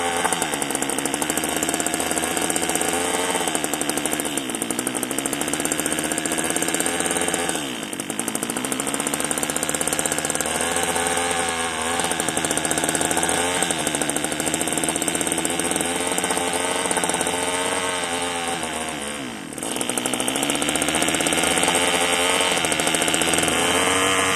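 A small Homelite two-stroke string trimmer engine runs continuously and loudly for the whole stretch. It holds a buzzy, wavering drone with brief dips in pitch and volume, and nothing else is heard.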